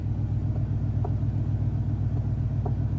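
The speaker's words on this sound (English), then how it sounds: "Boy, that exhaust sounds good." A supercharged Hummer H2 idles with a deep, steady exhaust rumble, loud and close, a constant low drone with faint ticks over it and no voices.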